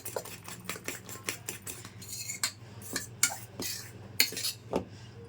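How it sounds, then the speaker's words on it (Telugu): A utensil beats an egg mixture for an omelette until frothy, making quick, uneven metallic clicks and scrapes against a bowl, close up and fairly quiet. "ఇదిగోండి ఇలా నొరగ వచ్చేంత వరకు కలుపుకోవాలి"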